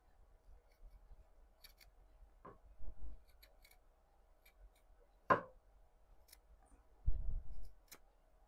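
Scissors with a blunted tip snip sewing thread on a coat pocket, making a few faint, brief, crisp clicks spaced apart in an otherwise quiet room, with soft handling bumps.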